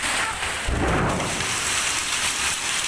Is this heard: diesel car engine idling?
no